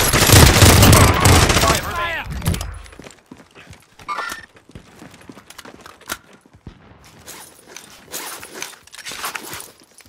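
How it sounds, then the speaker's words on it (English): Heavy gunfire in Call of Duty: Modern Warfare, a loud dense burst of rapid shots over the first few seconds, then scattered sharp single shots and clatter at a quieter level. "Okay, shooting over here."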